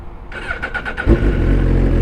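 A Suzuki GSX-R1000R sport bike starting up: a brief whirring starter crank, then the engine catches with a sharp bark and settles into a steady, throaty idle, close by.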